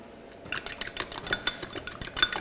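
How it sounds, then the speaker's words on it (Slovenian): Eggs beaten in a bowl with a utensil for kids' hot dogs: a quick run of light clinks and taps against the bowl, close and steady over about two seconds, with no talk. "jajce stepemo"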